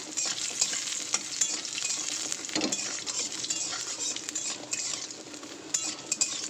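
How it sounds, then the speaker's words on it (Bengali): Masala bori, spiced lentil dumplings, frying in hot oil in a kadai, with a steady close sizzle and light clinks of a spoon stirring against the pan. "তো আগে বড়িগুলো আমি ভেজে নেবো, চলো বড়িগুলো ভেজে তুলে নেব"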